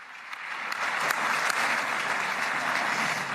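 Audience applause in the Knesset, a dense wash of clapping that rises quickly and holds steady and loud for several seconds.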